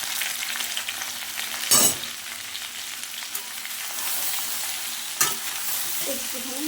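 Taro stems frying in a pan with turmeric and salt, a continuous close sizzle broken by two louder scraping stirs of the spoon near the start and later, with no one speaking.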